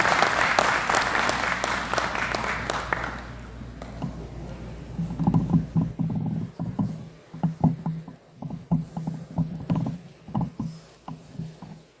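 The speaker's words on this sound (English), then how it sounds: "Another round of applause, please." A conference crowd at a Rotary district gathering applauds. Dense clapping runs for about three seconds, then fades into scattered, sparser claps and low murmuring voices.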